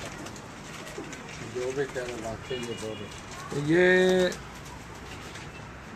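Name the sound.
champion pigeon cooing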